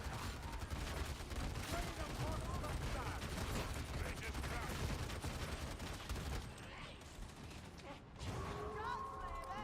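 Reaper guns firing in a video game, dense rapid bursts of gunfire rattling continuously at moderate level, thinning out near the end with mechanical creaks and faint voices under the shooting.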